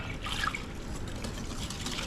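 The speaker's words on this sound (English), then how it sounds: "we're going to add 2 cups of milk to it and mix it up" Milk pours steadily into a bowl of 3.4-ounce Jell-O instant vanilla pudding mix, a soft continuous liquid trickle and splash lasting the whole stretch at close range, with no talking.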